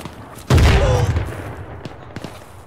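In the Arma military game, one loud, sharp gunshot or boom cracks out and rolls into a long fading tail. A few faint, distant shots follow.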